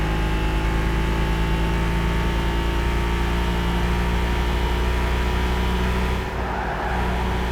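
An Audi R8 engine in the racing game Gran Turismo 5 gives a loud, steady drone that holds nearly unchanged throughout, dipping briefly near the end.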